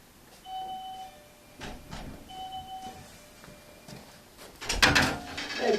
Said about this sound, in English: It's got a little doorbell set up for us.